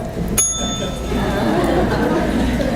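A single sharp ring of a small bell, bright and close, followed by murmuring voices and room chatter.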